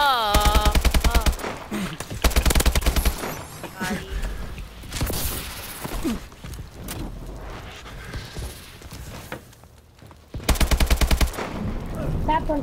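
Rapid bursts of automatic gunfire from a multiplayer shooter video game, several loud rattling volleys separated by quieter stretches of in-game noise.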